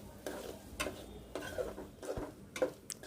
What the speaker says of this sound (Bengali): মসুর ডালটা আমি নেড়েচেড়ে কষিয়ে নিচ্ছি।